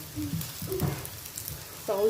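Potato maakouda patties frying in a pan, a soft continuous sizzle with brief voice fragments over it.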